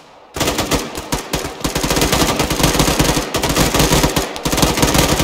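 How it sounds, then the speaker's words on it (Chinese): Sustained machine gun fire in the military video game ArmA, loud, rapid and near, starting abruptly after a short quiet moment and rattling on almost without pause. "掩护射击，开火。"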